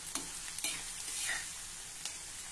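Chopped onion sautés in a pan for a traditional pigeon pea chutney, a soft continuous sizzle broken by a few light clicks of stirring, with no one talking.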